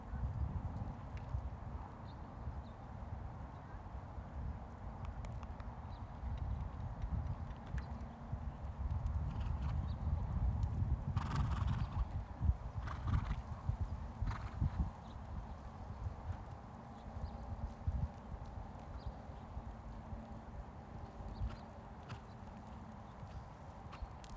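A horse, Happy the Standie, canters with a steady rhythmic drumming of hoofbeats in an arena, heard at moderate distance under faint background noise, with occasional scattered clicks.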